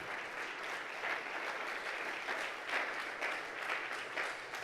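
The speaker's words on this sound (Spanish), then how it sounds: "Puede darle una ofrenda de palmas al Señor" Sustained applause from a church congregation during a worship service, a dense, steady patter of many hands clapping that swells slightly in waves and carries on without speech over it.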